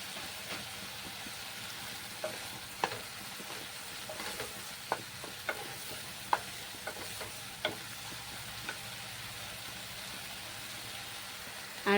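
Masala with freshly grated ginger sizzles in a pan for a Bengali rohu fish in poppy-seed curry, a steady frying hiss broken by intermittent scrapes and taps of the stirring spoon, with no talking.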